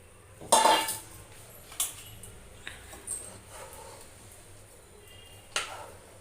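Potatoes, pumpkin and other vegetables are stirred with rice in a pot over charcoal for egg khichuri. A loud metallic clank leads into a few sparse knocks and scrapes of the spoon against the pot, close by, with no voices.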